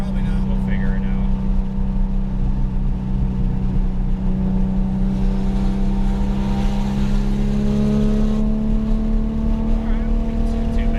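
Engine of a twin-turbo Porsche GT2 conversion drones loudly and steadily during a third-gear pull on a bridge, its pitch slowly climbing as boost builds, with people talking over it.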